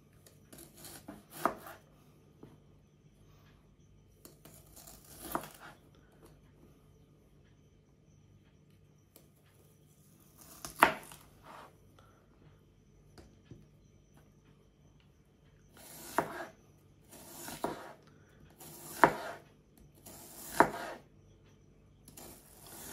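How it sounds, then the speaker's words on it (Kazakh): A knife slices two or three small green onions into thin rings on a board, giving scattered soft chopping taps in short bursts with quiet gaps between, close and fairly faint. "Осындай домалақтап турап аламыз"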